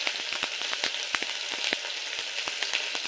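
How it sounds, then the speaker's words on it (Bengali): Fish sizzling in hot oil in a pan with a little spice, a steady crackling hiss broken by sharp pops and spatters, close and alone without voices. "একটু ভাজা ভাজা করে নেব"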